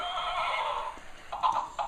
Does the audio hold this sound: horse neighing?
yes